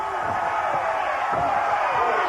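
Wrestling arena crowd cheering at a 1995 match between Hacksaw Jim Duggan and Arn Anderson, a loud steady roar with a commentator's voice partly over it.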